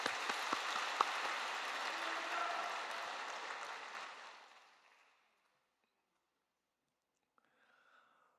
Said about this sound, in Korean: 여러분 박수 한번 쳐주시기 바랍니다